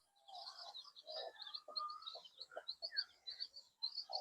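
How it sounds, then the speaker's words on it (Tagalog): Newly hatched chicks on a muddy Filipino farm give a steady run of high, thin peeping calls, close and continuous, with lower chirping and other cheeping mixed in beneath. "Ito yung may nakasilip na sisiw."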